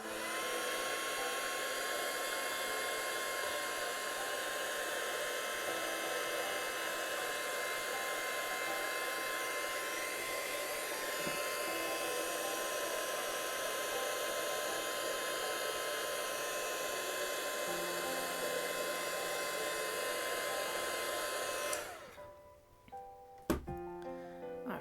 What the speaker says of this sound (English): we're just going to zap it with that heat tool again